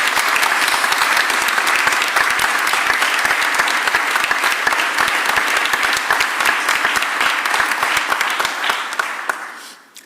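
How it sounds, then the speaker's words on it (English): A press-conference crowd in a city setting breaks into loud, sustained applause for labor union workers after a strike ends, the dense clapping holding steady for about nine seconds before tapering off at the end. "Give labor a round of applause."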